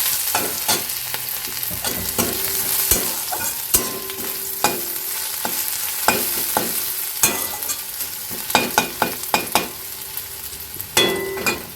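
Onions sizzle loudly in hot oil while a spatula scrapes and taps against the pan in quick, irregular strokes, close up with no talking.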